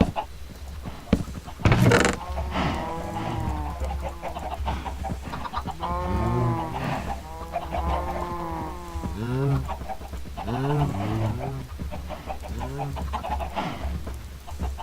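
Chickens in the survival video game Blood N Bones cluck and crow repeatedly, with bursts of sharp, harmonic calls over a low steady background hum, and one short clatter near the start.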